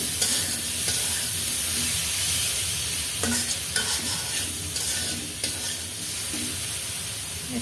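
Grated tomato sautéing in a pan for a rohu fish and eggplant curry, a steady close sizzle and hiss with scraping stirs now and then, heard alone.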